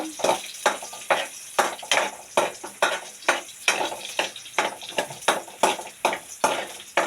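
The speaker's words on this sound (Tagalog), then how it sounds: "Pinapupula lang po ang sibuyas bawang" Onion and garlic being browned in a pan for squid adobo in coconut milk, heard as a steady frying sizzle broken by a quick regular run of scraping stirs and clinks of a utensil against the pan, close and fairly loud.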